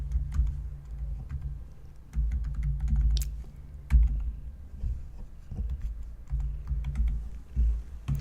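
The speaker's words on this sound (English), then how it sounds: "I'm typing it into the chat" Computer keyboard typing in rapid irregular bursts of clicks, fairly close, with short pauses between runs of keystrokes and no voice over it.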